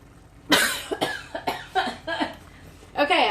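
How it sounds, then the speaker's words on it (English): Repeated coughing fits, about five harsh bursts close to the mic, set off by fumes while purple cabbage cooks with sugar and butter on a stove. "I told you it was supposed to make you cough. And guess what? It did."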